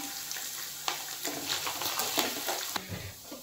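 Grated coconut, cashews and raisins frying in a pan for vegetable-free fried rice. A close, busy sizzle comes with repeated scraping bursts of stirring in an uneven rhythm.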